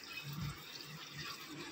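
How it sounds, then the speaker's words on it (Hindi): Water pours steadily into a pot in a home kitchen while making rasgulla, a continuous close splashing wash with a brief louder gush near the start. "अब इसमें जाएगा पानी"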